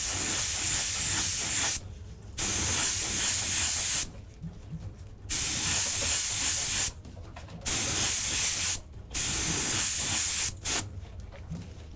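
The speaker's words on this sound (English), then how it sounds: "I've got the dark brown from Vallejo Model Air loaded in my airbrush. And I'm gonna very subtly spray it" An airbrush spraying dark brown Vallejo Model Air paint onto a miniature, loud close hissing bursts of about one to two seconds each, five or six in a row separated by short quiet gaps.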